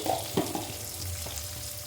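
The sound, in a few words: onions frying with salt in a pan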